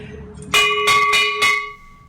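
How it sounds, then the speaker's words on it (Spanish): A bell rings out in four loud, evenly spaced clangs, each one ringing on with a sustained metallic tone as a faint voice murmurs underneath. "Suena la campana de la libertad."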